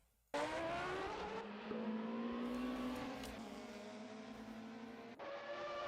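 A field of F1 and GTCC racing cars launches off the start line in a racing game, engines roaring loudly together as pitches climb through gear changes in a dense, continuous wall of revving with brief tire noise.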